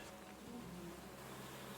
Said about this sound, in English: Oh, that's bees